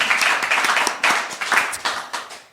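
A small audience claps for a departing guest on a talk show, a short burst of brisk, close applause that tapers off within a few seconds.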